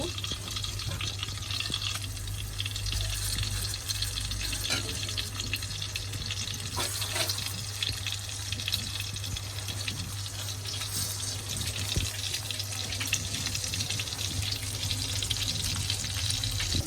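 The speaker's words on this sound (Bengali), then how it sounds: "এই যে এদিকে আমার তেল গরম হয়ে গেছে, আর এখন হচ্ছে আমি বেগুনগুলোকে ভেজে নেব" Sliced eggplant fries in hot oil, producing a steady, moderate hiss and crackle over a constant low hum, with no voices.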